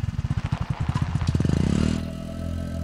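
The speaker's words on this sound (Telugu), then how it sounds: "ఏ టైంలో ఎవరు బైక్లో వస్తున్నారు?" A motorcycle pulls up nearby at night, its engine thumping in a quick pulsing rhythm that speeds into a rising rev before the sound settles into a steady low idle.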